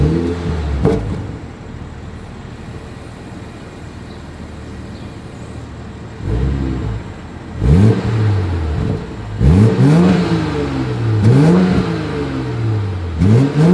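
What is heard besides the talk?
BMW 740 exhaust revving through gloss black tips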